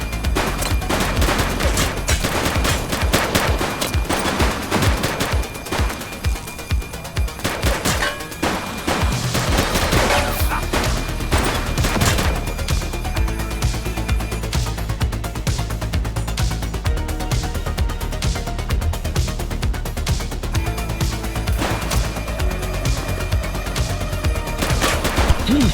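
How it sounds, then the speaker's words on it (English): Sustained gunfire in the police game The Precinct, dense volleys of shots over a driving music track, loud and continuous throughout. "He's shooting!"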